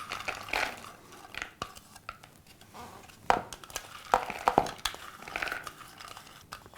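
Sprouts, finely cut paneer, pomegranate, dates and cucumber tossed together in a bowl, heard as uneven rustling, clinks and wet shuffling bursts up close, with no talking.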